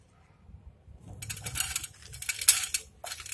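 Chopped dried fruits and nuts (coconut, cashews, almonds, apricots, raisins, figs) poured into a dish for sweet zarda rice, giving a steady pattering, clinking rattle up close that starts after a quiet moment and runs in uneven bursts.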